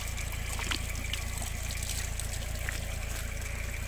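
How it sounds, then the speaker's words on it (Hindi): Cold mountain spring water running from a natural tap in the hills of Kashmir, a steady close trickling gush that holds level throughout, with no talk over it. "ये देखिए पहाड़ों में से होता हुआ नल तो बनकर यहाँ से निकल रहा है पानी"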